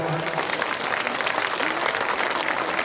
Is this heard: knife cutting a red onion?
no